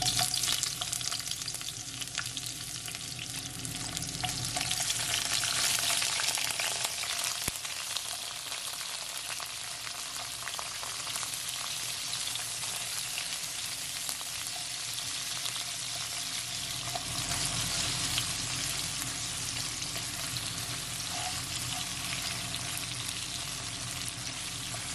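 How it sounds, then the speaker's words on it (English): Cherry tomatoes sautéing in a pot for a stew chicken dinner make a loud, constant frying hiss and crackle that runs unbroken for the whole stretch, with no talking. "I'm just gonna allow it to saute for at least 1 minute."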